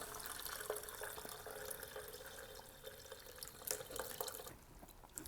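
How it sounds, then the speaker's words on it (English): Infused vinegar for fire cider runs through a strainer, heard as a quiet, continuous trickle with scattered faint drips and no voices. "You want to take a strainer and then just strain the vinegar in."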